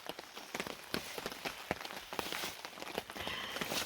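Rain patters steadily on a campsite tarp, a dense spread of close drops with sharper individual taps scattered throughout, no voices.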